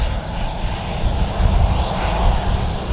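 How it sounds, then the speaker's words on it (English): A Ryanair airliner roars at Manchester Airport's runway 23R, one arriving as another departs, a loud broad continuous engine rumble close by with no talk. "And as one Ryanair arrives, another one departs."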